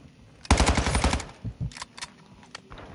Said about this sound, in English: I jumped right into the freaking gunfire.